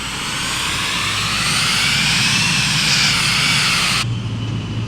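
A flight-simulator airplane's engine roars steadily during its takeoff roll down the runway, loud and continuous, with the pitch rising slightly before the sound cuts off abruptly near the end.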